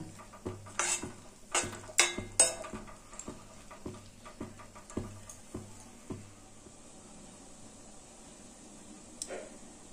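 Papaya is stirred with sugar syrup in a pan for a sweet chutney: a cluster of sharp spoon clinks and taps against the pan early on, then softer, sticky stirring that fades toward quiet.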